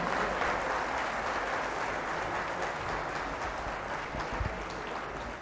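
A large audience at the Aalmi Urdu Conference 2022 at the Karachi Arts Council breaks into sustained applause, a dense, steady roar of clapping that holds at full strength throughout and fades only slightly at the end.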